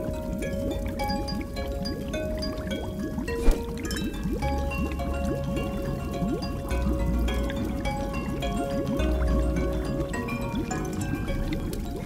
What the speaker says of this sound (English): The water is boiling and changing state from liquid to gas.